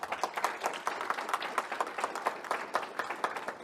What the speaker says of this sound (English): let's clap it up for the sponsors